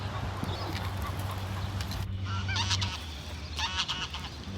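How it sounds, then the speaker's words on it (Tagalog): Several geese honk in loud bursts close by in Aspire Park, Qatar, calls overlapping against a steady low rumble of outdoor noise. "Napakasarap pagmasdan ang mga gansa at napakasarap pakinggan ang kanilang mga tunog."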